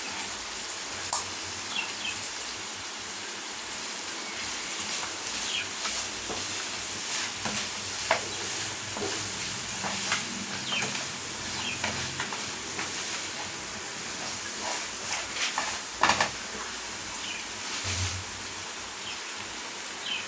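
Crab fry sizzles steadily in a hot pan with ground pepper, cumin and fennel powder, while a spoon scrapes and stirs through it in repeated strokes. The cooking noise is close and continuous.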